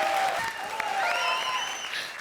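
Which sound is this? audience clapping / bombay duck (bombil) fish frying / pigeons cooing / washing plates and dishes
audience clapping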